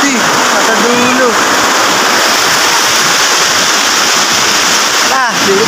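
The Taludtud River in Majayjay, Laguna, rushes loudly and continuously, a dense roar of flowing water right up close, with brief voices and whistles heard over it.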